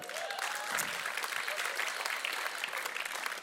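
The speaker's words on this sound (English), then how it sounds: "Come on, give a cheer for Karim." An audience at a talk claps and cheers loudly and steadily throughout, a dense, continuous burst of applause with no pause.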